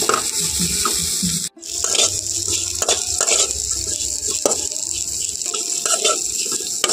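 Neem flowers stirred and frying in a pan over low heat, giving a continuous close sizzle broken by scraping spatula strokes and clinks against the pan, with a brief silent gap partway through.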